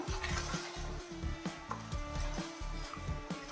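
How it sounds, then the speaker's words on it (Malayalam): A spoon stirs salted food in a pan over medium flame, scraping in steady rhythmic strokes against a soft background sizzle, close and moderately quiet. "എല്ലാം കൂടെ ഉപ്പും കൂടെ ഇട്ടിട്ട് നമുക്കൊന്ന് നല്ല രീതിയിൽ ഒന്ന് മിക്സ് ചെയ്യാം."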